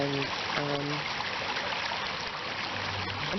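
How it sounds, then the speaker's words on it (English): A creek flows not far from town with a steady, close trickling rush of water. A voice is heard briefly at the start and again near the end. "Here I am at the creek"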